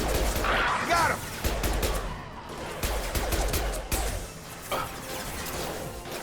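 Heavy gunfire in Mass Effect 2 during the Omega quarantine fight: loud, close volleys of shots and impacts in irregular clusters, with brief lulls between bursts.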